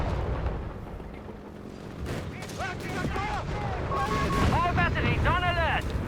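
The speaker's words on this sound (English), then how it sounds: "the crew just vanishes beneath a cascade of artillery shells" Artillery shells burst during a Company of Heroes 3 match, DAK against USF, giving a dense rumble of explosions and gunfire that builds toward the end, with a commentator talking over it.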